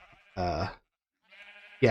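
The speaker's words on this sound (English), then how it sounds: "this is the sheep, and this is how the sheep's going to look" Sheep bleating in a Minecraft-style sheep farm game: two loud, wavering bleats separated by a short pause, with a third bleat beginning at the end.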